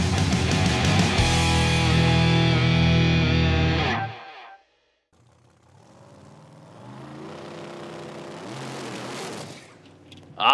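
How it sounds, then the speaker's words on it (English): Top Sportsman Cavalier drag race car on nitrous at a PDRA drag strip: a loud, distorted engine roar for about four seconds cuts off abruptly, followed by a brief silence and a lower rumble, ending in a sharp burst. "big nitrous backfire and flames come out of the Cavalier for Brooks"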